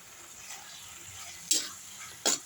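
Chili powder sautéing in oil in a pan for pumpkin thokku, a low steady sizzle broken by two brief scraping stirs, close by and quiet, with no voices.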